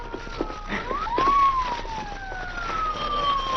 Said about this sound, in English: Hey, listen. Police car.